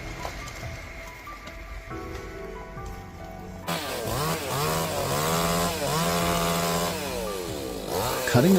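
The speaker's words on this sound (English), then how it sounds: "Cutting a pine tree with a chainsaw is both an art and a science." A chainsaw cuts into a pine tree during felling, the engine idling low before revving hard and bogging in the wood in repeated loud, close surges.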